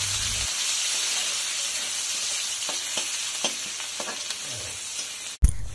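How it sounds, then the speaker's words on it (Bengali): Chopped onion frying on a low flame, a steady bright sizzle close by with occasional soft stirring scrapes and a sharp knock near the end, no voices. "তারপর লো ফ্লেমে হালকা করে ভেজে নিতে হবে।"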